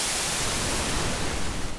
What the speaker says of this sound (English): Okay, if I move toward the brown noise,